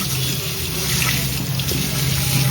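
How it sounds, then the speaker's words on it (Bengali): Sago pearls rinsed in cold water under a running kitchen tap, a steady close splashing stream that runs unbroken from start to finish. "ছেঁকে আমি নলের নিচে একটু দিয়ে ভালো করে ঠান্ডা জলে ধুয়ে নেব"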